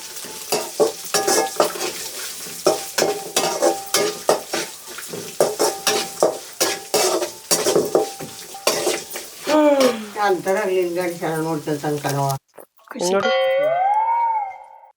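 Ginger, garlic, black pepper and onion stir-frying in a pan for Malnad-style chicken palya, with steady sizzling and repeated scraping stirs of a utensil against the pan, a voice talking throughout.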